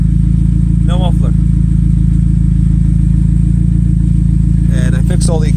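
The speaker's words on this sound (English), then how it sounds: "And I fixed all the exhaust leaks, so this is what it sounds like now." A Saab 95 idles with its muffler deleted and exhaust leaks fixed, a steady, loud, deep rumble throughout, with someone briefly talking over it near the start and end.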